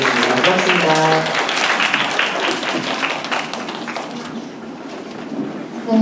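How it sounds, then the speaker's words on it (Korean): A room full of attendees applauds at a 2025 university admissions information session, a steady wash of clapping that slowly fades, with a voice speaking over it at the start. "다시 한번 저희 큰 박수 쳐주시고요."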